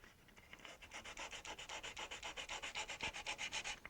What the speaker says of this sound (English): Notice how much better a job I'm doing sanding when the piece is not wobbling and moving.